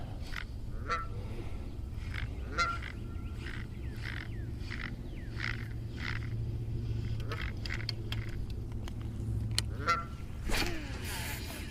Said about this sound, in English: these geese make all kinds of noise